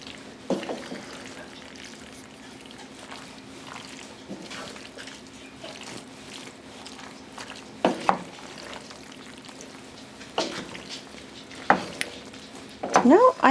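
Ground beef stirred with enchilada sauce in a pan for a Tex-Mex dish: a steady low sizzle runs throughout, broken by several louder scraping and clattering stirs near the end.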